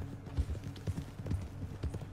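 Horse hooves clip-clop steadily in Red Dead Redemption 2, with an even, rhythmic gait that stays close and moderately loud for the whole stretch.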